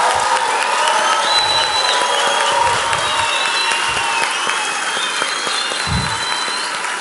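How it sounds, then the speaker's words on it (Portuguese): Audience at a political speech breaking into loud sustained applause with cheering, a dense continuous roar of clapping and voices throughout. "Eu gostaria de uma salva de palmas à braveza da ministra."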